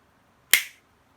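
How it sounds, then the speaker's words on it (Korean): Single sharp click of a bearing snapping into place in a Nabula direct drive wheel bracket, crisp and close, with a short decay and silence around it. "최대한 끼신 후에 끝까지 딱 소리 날 때까지 끼워주시면요"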